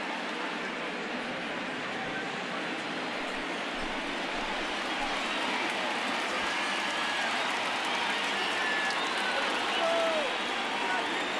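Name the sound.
crowd cheering in MLB The Show 19 video game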